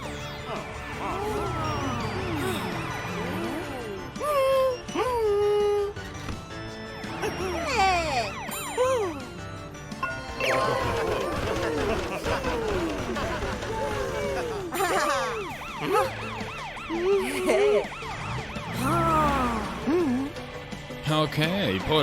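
Wailing, rising-and-falling police sirens sound repeatedly, loud and near, with people talking over and between them.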